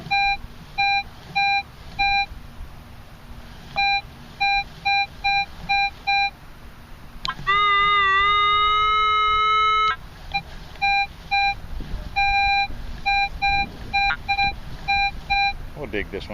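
A Minelab CTX 3030 metal detector in a park sounds rapid repeating target beeps over buried silver, broken by a sustained rising tone in the middle, close and clear with some faint background noise.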